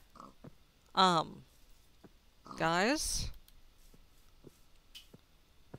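Pigs in a video game let out two short, squealing oinks a couple of seconds apart, fairly close, separated by sparse soft clicks against an otherwise quiet background.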